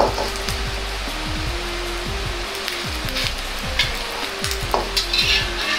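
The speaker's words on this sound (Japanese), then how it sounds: "両面をしっかり焼いていきます。" Egg dumpling omelettes fry on both sides in a pan for a Chinese home-style dish, giving a loud continuous sizzle broken by repeated scraping and tapping from a spatula close by.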